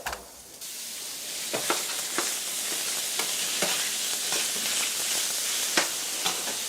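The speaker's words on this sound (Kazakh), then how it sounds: "Пиязымыз жақсылап қуырылғаннан кейін жаңағы фарш саламыз. Сиыр етінен дайындалған фаршты салу керек бізде." Minced beef goes into a pan of fried onions and sizzles loudly and steadily, with a burst at the start and repeated scraping strokes of a spatula stirring it.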